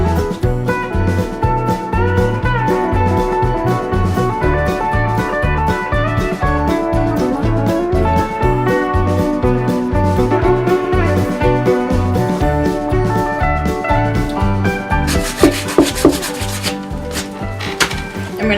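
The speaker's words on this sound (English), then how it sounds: "We're going to sand it down, just smooth out all the rough edges" Sandpaper working over an Idaho buck leather mount, smoothing rough edges and thick spots with steady, rhythmic rubbing strokes that continue at a fairly loud, even level throughout, with no talking.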